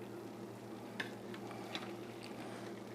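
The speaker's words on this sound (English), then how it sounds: "So you can hear it sizzling." Stuffed peppers sizzle quietly in a pan, a faint steady frying hiss with a hum beneath and a couple of light clinks from utensils.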